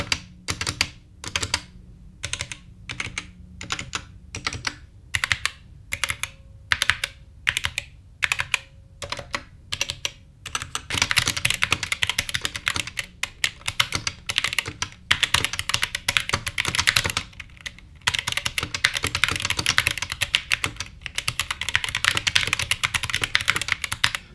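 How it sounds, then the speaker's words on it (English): Rapid clacking of a Dierya x Kemove DK61 60% mechanical keyboard, first in separate bursts of keystrokes, then continuous fast typing, close and crisp with no voices. "Talking about solid, let me go on and give you this sound test."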